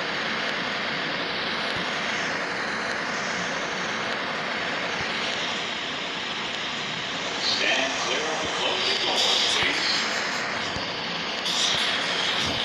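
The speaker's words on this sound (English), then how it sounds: "This is an 8th Avenue bound L train." An R143 subway train rides on the J line in the game hmmsim 2, giving a loud continuous rumbling whine of motors and wheels, with an announcement voice partway through.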